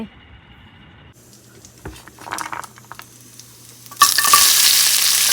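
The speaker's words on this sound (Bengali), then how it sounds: "এখানে গাজর আর ক্যাপসিকাম ভাজা করে নিচ্ছি" Carrot and capsicum being stirred and fried in a pan, a few quiet scraping stirs and then a loud, close, continuous sizzle that takes over near the end.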